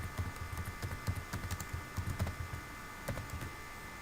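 Rapid clicking keystrokes on a computer keyboard as an answer choice is typed, quiet and close, in short irregular bursts with brief pauses.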